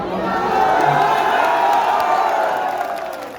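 A large crowd at a political rally cheers and roars in a steady, loud swell of massed voices lasting a few seconds, with scattered whoops rising out of the din before it eases slightly.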